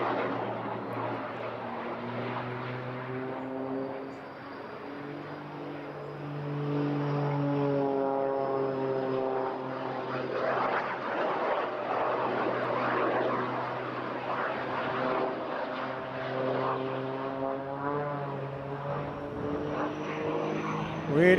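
Propeller aerobatic aircraft at a seaside airshow, with an added jet-like roar, climbing and diving as its engine note rises and falls in a loud, steady drone with a strong rising whine; a commentator talks faintly over it.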